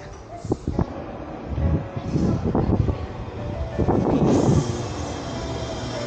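A train passes near Senzokuike Park in Ota City, Tokyo, a rising rumble with wind noise that swells toward the end, with people chatting over it.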